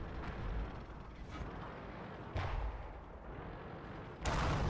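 Tank cannon firing in a tank battle video game, likely the Chi Nu Kai: a few muffled booms with rumbling tails at irregular intervals over a constant engine drone, fairly faint.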